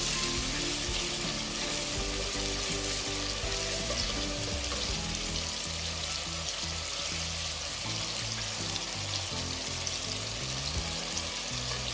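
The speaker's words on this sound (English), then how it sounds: "I'm going to leave this and allow it to, you know, continue browning." Chicken liver frying uncovered in a pan for Jamaican brown stew, a loud, unbroken crackling sizzle held steady throughout, close up with no talking.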